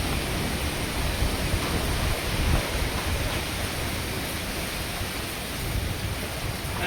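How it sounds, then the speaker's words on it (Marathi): Heavy rain and gusting wind roar steadily during a village flood, a dense, loud wash of noise with no pauses and no voices. "खूप वारा आहे आणि खूप पाणी आहे"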